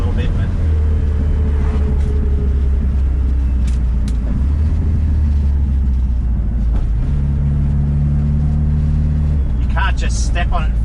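Ford Falcon XB on an expressway, engine note rising under steady low road rumble and tyre roar with a drawn-out revving tone, while someone talks over the cabin noise.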